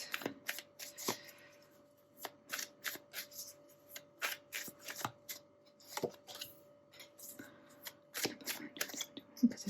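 Tarot cards are shuffled by hand in a run of close, crisp riffling and flicking bursts with short pauses between them, alone and without speech.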